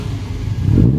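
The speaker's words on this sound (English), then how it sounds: "The noise from this car is not the best." Classic racing car engine at the Mille Miglia start, a short loud mid-pitched rev that swells toward the end, heard close with a slight clatter and no talking.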